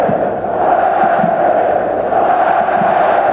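Stadium crowd at the Bosnia and Herzegovina versus Denmark 1998 World Cup qualifying football match keeps up a loud, sustained roar of cheering, with faint low thuds and swells rising briefly within the continuous din.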